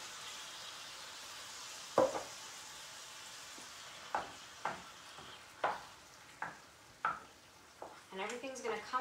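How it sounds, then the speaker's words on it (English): Wooden spoon breaking up whole plum tomatoes in a pan of sausage pasta sauce, a series of separate squishing, scraping pokes over a low simmering sizzle, close up, quickening at the end. "So I'm going to break that up with my wooden spoon."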